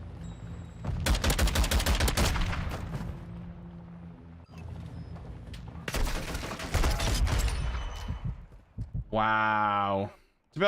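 Rapid automatic gunfire in Modern Warfare 2 comes in two loud, dense bursts of rattling shots separated by a lull, followed by a short tonal game sound and a final thump; a person talks faintly between bursts.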